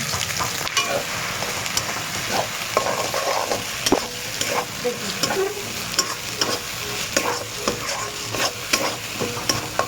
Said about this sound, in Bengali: তেলটা আমার গরম হয়ে গেছে, আমি হিং দিচ্ছি। এবার আমি পেস্টটা দিয়ে দিচ্ছি।